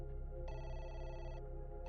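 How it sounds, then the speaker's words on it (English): A telephone ringing, a steady electronic tone with bursts of brighter ringing, faint and continuous over a low sustained background hum. "Just then, the phone rang again."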